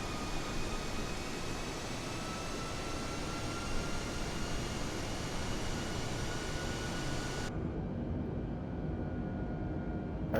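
An Airbus A320neo takes off in Microsoft Flight Simulator, a steady, loud engine roar with a thin high whine, heard from outside the aircraft. The roar holds evenly, then the upper hiss drops away near the end.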